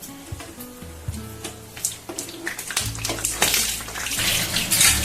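Mughlai paratha fries in very hot oil, a bright hissing sizzle that swells and grows louder over a few seconds, with faint low hum and small bubbling pops.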